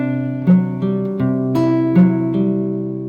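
Fingerpicked acoustic guitar plays a passage from a song: close, clear plucked notes over sustained bass, with a few accented attacks in an even rhythm and no talking.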